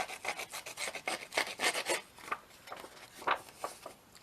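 The paper edges of a handmade journal being roughed up, a series of quick close scraping rubs in short rhythmic bursts, with a brief pause midway.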